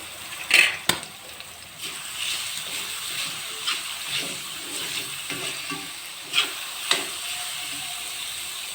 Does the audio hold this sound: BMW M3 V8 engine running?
no